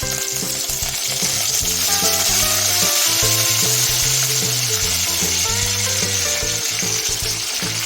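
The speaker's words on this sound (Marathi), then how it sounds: "त्यानंतर मी कढीपत्ता टाकते." Curry leaves fry in hot oil with a loud, steady crackling sizzle that runs throughout, alongside stirring and clinking in a home kitchen.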